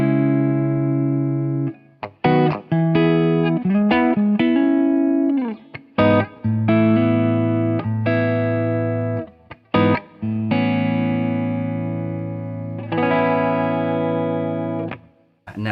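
An electric guitar played through an amp on its clean setting, sustained chords and single notes ringing out with brief gaps between phrases, loud and close with no talk.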